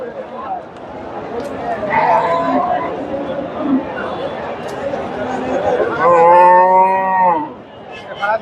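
Cows and other cattle at a busy livestock market in Bogura, a long loud moo rising near the end over a steady crowd murmur and chatter, with a fainter bovine call earlier.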